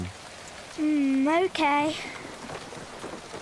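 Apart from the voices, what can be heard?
rain falling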